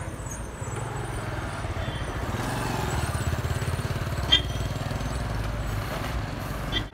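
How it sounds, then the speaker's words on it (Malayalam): A tipper truck travels along a road past a tea estate, its diesel engine a steady, rough, throbbing drone heard at moderate distance throughout. "ഒരു ടിപ്പർ അവിടുന്ന് അത് അപ്പുറത്തെ വഴി കൂടെ പോവാണ്."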